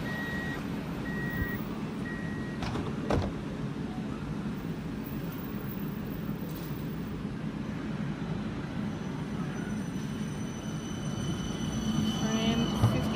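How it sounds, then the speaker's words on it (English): A rechargeable battery-powered tram with no overhead wires or third rail runs on the old Newcastle railway line, giving a steady rumbling roll with intermittent electronic beeping tones, close and fairly loud throughout. "this is a rechargeable battery powered tram"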